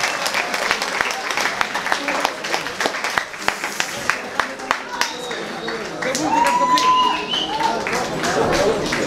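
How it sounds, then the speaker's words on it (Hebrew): Audience applause at an evening event at Kfar Silver youth village: a dense, steady round of clapping that holds for about nine seconds and swells slightly toward the end, with no talk over it. "ומגיע לכם מחיאות כפיים"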